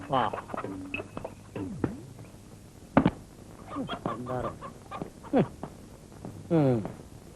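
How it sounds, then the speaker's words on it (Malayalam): A chicken clucks in short bursts close by while people talk over it. "ഓ, കോഴിയാണല്ലേ?"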